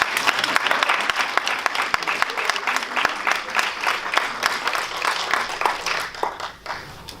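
Dense, sustained applause fills a hall after the winners of a 2017 oratorical contest are announced, then thins and fades toward the end.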